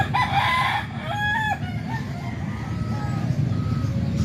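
A young gamecock crows loudly and close by in one drawn-out call, followed by softer clucks and distant fowl noise on a farm.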